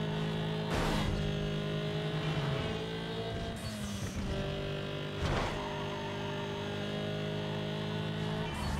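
Car in Need for Speed Underground 2 drives with a steady, loud engine drone and shifting pitch as it revs, with occasional whooshing passes and impacts breaking the constant roar.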